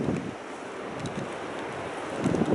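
Strong wind gusts at the seaside at Valdevaqueros beach in Andalusia, with steady, loud buffeting and rushing noise and faint surf beneath it.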